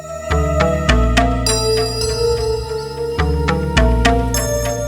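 A phone ringtone plays as a call is placed, a bright repeating electronic melody of chiming tones, loud and close with no talk over it.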